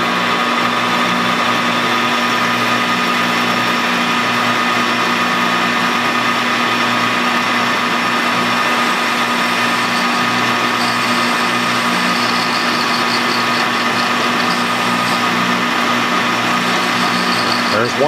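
A lathe spinning at 190 RPM takes a cut on a part for a V-8 engine stand, giving a steady, loud machine hum with a constant whine throughout.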